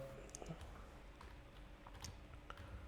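Code being typed on a computer keyboard, a steady run of light, fast key clicks close by over a faint room hum, with no voice.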